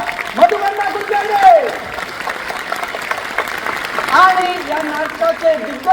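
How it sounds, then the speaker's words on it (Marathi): A theatre audience applauds at the first show of the live Marathi play Laggn Panchami, a rolling clatter of hands carrying on underneath a voice speaking over it. "जोरदार टाळ्या व्हायला पाहिजे"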